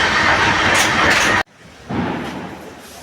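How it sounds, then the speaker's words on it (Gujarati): Loud, broadband rushing rumble of a train passing at full speed on tracks near Mehsana, which cuts off abruptly, then a softer roar follows. "ટ્રેન હાલવા મળી છે, ફૂલ ફાસ્ટ જાય છે."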